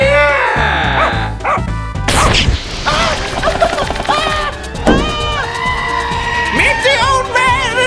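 Cartoon dog barks and yips in quick, loud bursts mixed with crashes, whacks and squeaky animated voices in a frantic comedy scene.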